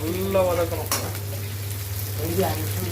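Onions frying and being sautéed in a pan, a steady close sizzle with a low hum beneath and occasional stirring scrapes, heard alone.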